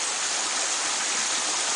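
Small stream from a freshwater spring pours into a creek: a steady, close, even hiss and rush of water with no breaks and no voices.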